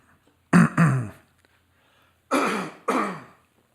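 A man clears his throat several times in close, loud bursts: one pair of rough rasps, a pause, then two more strong clearing rasps in quick succession, each standing alone without speech.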